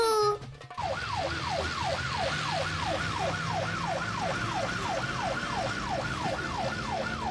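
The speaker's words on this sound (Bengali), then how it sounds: "পিছনে পুলিশের গাড়ি আসছে মনে হচ্ছে" A cartoon police car siren wails in a steady, fast, rising-and-falling cycle. It stays loud and continuous after a brief burst of other sound at the start.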